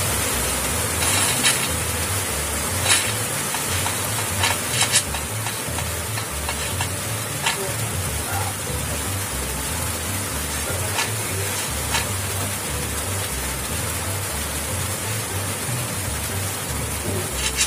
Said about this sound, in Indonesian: Hujan guys, jadi nggak dengar suaranya guys.